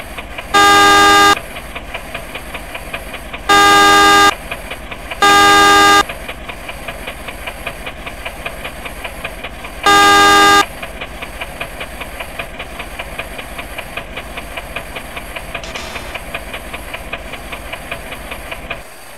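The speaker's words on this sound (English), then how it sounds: "Blow horn and see if they back." Train horn in the video game Indonesia Train Simulator, four loud sustained blasts of varying length, two close together early on, over a constant engine rumble and hiss.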